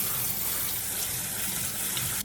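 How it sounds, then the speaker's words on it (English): Drained canned chickpeas rinsed under a running kitchen tap, a steady close splashing rush of water lasting about two seconds with no talking. "Start with 15 ounces of chickpeas, also called garbanzo beans. Drain, then rinse,"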